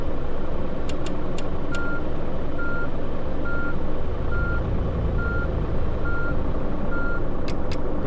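Steady, evenly spaced reversing beeps from a coach bus in Fernbus Simulator, sounding over a loud, constant diesel engine drone with a few faint clicks.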